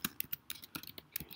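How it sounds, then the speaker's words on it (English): Someone types on a computer keyboard, producing a quick, irregular run of about a dozen close, quiet key clicks with no talk. "I'm typing this before I forget."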